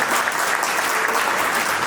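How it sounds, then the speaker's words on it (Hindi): Dense, steady audience applause fills an evening poetry recital hall, loud and continuous for the whole moment without a break. "मुझे एक बार ताली बजा करके आप मौका दें।"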